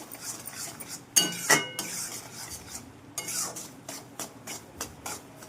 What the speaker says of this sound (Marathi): जसं जसं रवा भाजायला सुरुवात करतो तशी तसे आपल्याला तूप सुटायला लागते